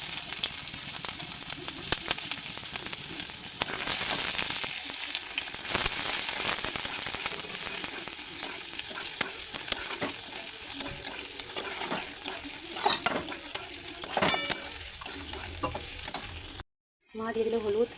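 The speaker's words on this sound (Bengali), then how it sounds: "পেঁয়াজটা হালকা করে ভেজে নেবো" Onions frying in oil in a wok, a steady loud sizzle with stirring scrapes and occasional metallic clinks running throughout, briefly cutting out near the end.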